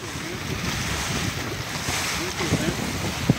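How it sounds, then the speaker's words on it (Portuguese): Strong wind buffets a fishing boat at sea, a constant roaring rush over the sound of water and waves, with a few louder gusts and knocks near the end. "O vento resolveu aparecer de novo."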